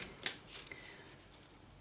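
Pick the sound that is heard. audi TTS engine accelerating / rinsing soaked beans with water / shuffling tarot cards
shuffling tarot cards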